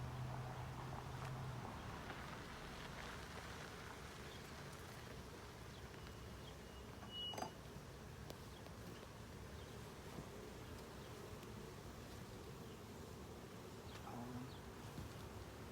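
Honeybees drone in a dense, steady buzz throughout an open hive inspection with smoke in use, faint and continuous, with a single sharp tap midway.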